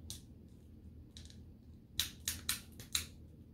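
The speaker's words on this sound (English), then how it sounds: "That's that barb clicking in to the bottom of the prosthetic." The barb of a body-powered, cable-operated prosthetic arm clicks into the bottom of the socket, giving a few soft early ticks and then four sharp close clicks in quick succession.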